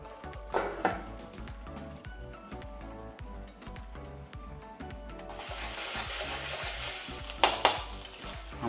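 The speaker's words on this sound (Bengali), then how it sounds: "এবার আমরা একটু নেড়ে চেড়ে আবার আমরা ঢাকনা দিয়ে ঢাকা দিয়ে দেবো।" Black mutton curry masala stirred in a thick pot makes rhythmic scraping and clinking strokes of a utensil against the metal, steady and close. A soft sizzling hiss rises partway through, along with a couple of sharper clanks.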